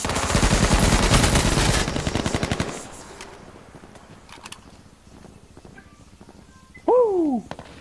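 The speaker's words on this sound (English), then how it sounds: "Well, more shots." Rapid automatic gunfire from the H1Z1 Battle Royale video game rattles loudly for about three seconds, then fades into quieter scattered shots and game ambience, ending with a short bright tonal effect.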